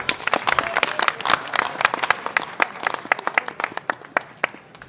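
Audience at a Hindi poetry gathering applauds with steady, dense clapping throughout, fairly close and continuous with sharp individual claps standing out.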